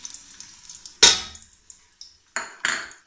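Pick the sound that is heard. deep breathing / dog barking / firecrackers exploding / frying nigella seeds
frying nigella seeds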